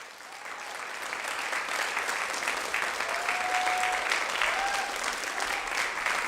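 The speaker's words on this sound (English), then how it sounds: "Keep that applause going for Kassire." Audience applause after a spoken word poetry performance at a showcase. Continuous, full clapping from a crowd carries evenly from start to finish, close and sustained without a break.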